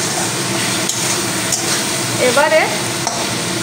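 Chicken pieces with drumsticks frying with ginger and garlic while being stirred in a pan: a loud, continuous sizzle with scraping strokes of the spoon and a brief spoken word over it.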